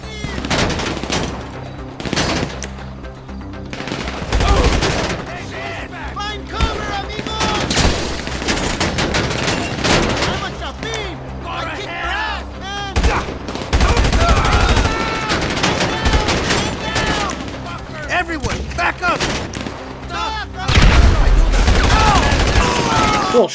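Heavy gunfire crossfire in a GTA Online shootout, dense bursts of automatic fire and rapid shots rattling loudly and almost continuously, with someone talking over the combat at times.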